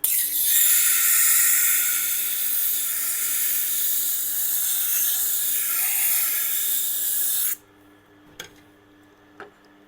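Rubber-bladed scissors being roughened on a sharpener, a close, steady abrasive hiss that runs without a break for about seven seconds, then stops, leaving near silence broken by two faint taps.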